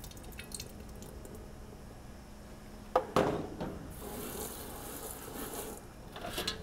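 Soil sample water decanted over a lab screen: faint drips at first, then a short splashy pour followed by a soft, steady trickle of water running through the mesh, close by in a quiet room.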